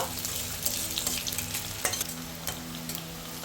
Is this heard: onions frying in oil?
yes